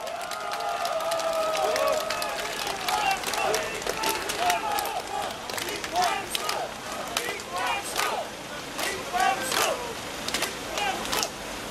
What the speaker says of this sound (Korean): 광수생각 김광수 후보자님을 큰 박수로 맞이해 주십시오